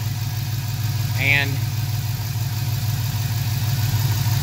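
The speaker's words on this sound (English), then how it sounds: "let me turn on the engine" Chevy Tahoe engine with a random cylinder misfire running at idle, a steady low rumble close by that continues throughout, with someone speaking briefly over it.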